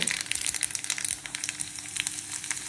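Mustard seeds and cumin sizzling in a small amount of hot oil for an amaranth-leaf dish, a soft, close crackle with quick pops and spits, no voices.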